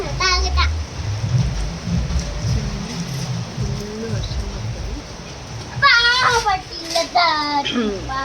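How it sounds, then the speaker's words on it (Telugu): Heavy evening rain falls in Madanapalle as a steady, hissing wash of drops, while children's voices chatter and call out nearby over it. "ఇప్పుడే స్టార్ట్ అయింది అనమాట ఈవినింగ్ సో ఫుల్ వర్షం పడుతుంది"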